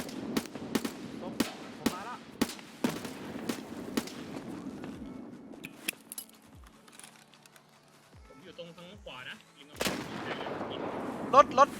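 Repeated sharp gunshots crack out in a Thai shooting video game, loud single shots spaced through the first half, then quieter scattered firing, with a burst of shots near the end under faint talk.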